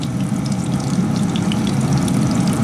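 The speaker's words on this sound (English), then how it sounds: "See the grease is frying." Steady, dense sizzling and crackling of catfish frying in hot grease, loud and continuous throughout with no talking.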